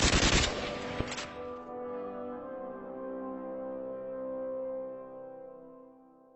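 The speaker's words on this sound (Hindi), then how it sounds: "चलो सब हवाई फायरिंग करो। करते रहो, फायरिंग करते रहो।" Burst of rapid automatic gunfire fired into the air as a salute in the Free Fire video game, a loud rattling volley for about a second followed by a long ringing, fading echo tail.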